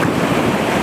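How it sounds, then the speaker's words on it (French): Big river rapids rush loudly and steadily in a brief burst, heard from a canoe on the Rivière aux Feuilles in Nunavik, Quebec, with heavy wind buffeting the microphone. "dans les grosses vagues!"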